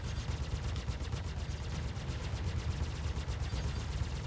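Gunfire in the space game Star Citizen: a dense, continuous stream of rapid shots rattles on throughout at a steady loud level, with no voices over it.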